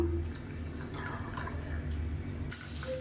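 Water pours into a mixer jar to rinse out freshly ground chutney, a trickling, splashing fill heard up close under a low background hum.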